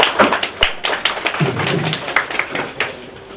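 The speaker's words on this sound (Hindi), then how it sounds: "जोरदार तालियों के साथ आप उनका स्वागत करें।" Audience members at a farewell party clap in welcome for a guest, a loose scatter of individual sharp claps, close and uneven, rather than a dense ovation.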